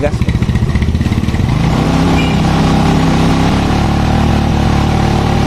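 A Yamaha Mio scooter engine revs hard at full throttle, a loud, steady, buzzing roar held close up after a choppy start, with people talking over it.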